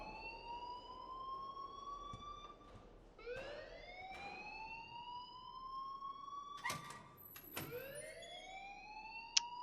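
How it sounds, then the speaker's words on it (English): A school alarm rings on a campus in the Life Is Strange video game, sounding as repeated rising siren-like wails that sweep up and hold, several cycles over a steady background with no talking. "please turn off that alarm since that's your job"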